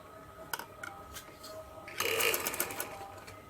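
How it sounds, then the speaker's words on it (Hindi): Sewing machine running in a steady stitching burst while sewing a fine seam on a dhoti shalwar, beginning quietly with a few short starts and then rising into a louder, continuous whir, heard close with no talking. "इसके ऊपर बारीक सिलाई लगाऊंगी।"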